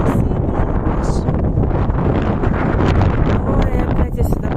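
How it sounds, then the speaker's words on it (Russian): Strong cold wind buffeting the microphone outdoors with snow weather coming, a loud continuous roar and rumble that persists throughout with gusty swells. "тут опять ветер невъебенный"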